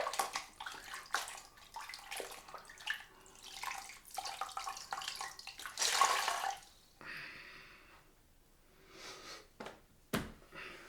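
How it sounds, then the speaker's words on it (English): Water splashes and runs as shaving lather is rinsed off a cloth, with short bursts of flow, one louder gush, and quieter drips and trickles between them. "So let's just wash off the lather off this cloth."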